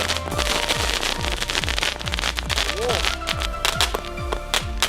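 New Year fireworks and firecrackers burst in a rapid, steady string of loud, close cracks and bangs, with a brief rising whistle partway through, and continue without pause for the whole stretch.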